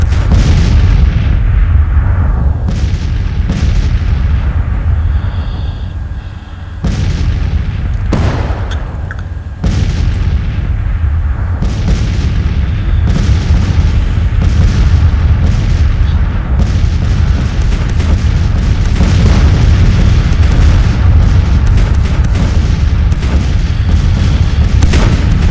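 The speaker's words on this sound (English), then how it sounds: "the artillery fire is just ferocious" Artillery fire in the Civil War strategy game Grand Tactician at the Winchester battle, a dense barrage of loud, booming cannon blasts and rumbling impacts, repeated irregularly throughout with brief lulls, with no voices.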